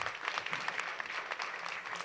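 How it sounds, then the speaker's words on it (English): Audience applause for a conference panel at an international open schooling event, a dense, steady wash of many hands clapping at moderate distance, continuous throughout with no voices on top. "Give them a quick round of applause"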